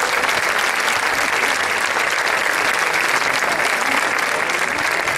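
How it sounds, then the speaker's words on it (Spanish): Loud, dense applause from a festival audience for folk dancers, a thick, unbroken wash of many hands clapping at a constant level from start to finish. "Merecido ese aplauso."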